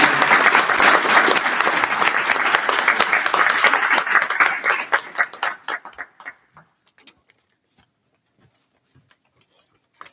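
Audience applause for student government election debate candidates, a dense burst of clapping from a seated crowd that holds steady for several seconds, then thins into scattered claps and fades to near silence.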